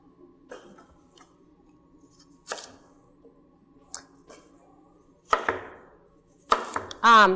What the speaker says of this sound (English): When you're chopping them up, you can make them super fine.